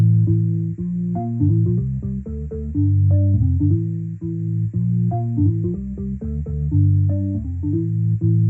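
A Korg M1 organ sample on a Yamaha PSR-SX920 keyboard plays a sustained, tonal melodic line over held low notes. It is loud and close, with no voices.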